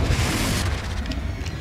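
A Confringo spell goes off in Hogwarts Legacy with a deep, rumbling blast and a dense low roar that holds steady the whole time, loud and close.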